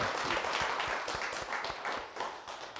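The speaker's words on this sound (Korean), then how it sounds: "박수. 예." An audience claps together during a laughter-therapy talk, a thick wash of applause with some distinct individual claps, sustained and fading slightly toward the end.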